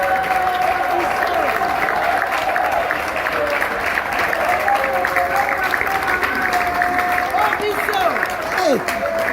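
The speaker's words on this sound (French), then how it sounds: "Vos applaudissements, s'il vous plaît." An audience at the SB Awards 2025 ceremony applauds the nominees with dense, steady clapping that fills the whole stretch, while voices and tonal sounds carry on over it.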